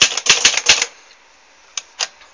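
Keys strike on a Corona or Olivetti manual typewriter, a quick run of sharp clacks up close followed by a pause and two more isolated taps.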